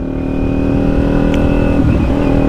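A Kawasaki Ninja 400 motorcycle engine runs loud and close with a steady, buzzy mechanical drone and strong low harmonics, holding nearly constant through the short stretch.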